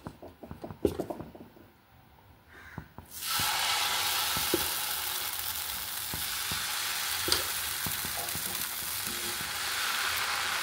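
Masala dosa batter sizzling on a hot griddle, a steady broad frying hiss rising after a few quiet seconds of light tapping and clinks, continuing loud and even with occasional utensil scrapes.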